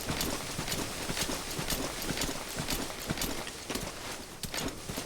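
Horse hooves clip-clop at a steady walking pace in Metal Gear Solid V, a continuous rhythmic run of close, evenly spaced footfalls over a dense game soundscape.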